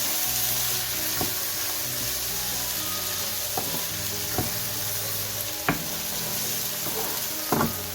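Onions and fenugreek sauté in a pan with a constant close sizzle. A spoon scrapes and clinks now and then as the mix is stirred.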